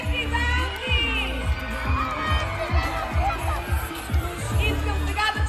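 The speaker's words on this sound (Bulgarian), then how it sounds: "Аплодисменти за Енди!" Crowd at a live event cheering, whooping and clapping loudly and steadily, with shouts and voices over the top and a loud low rhythmic beat underneath throughout.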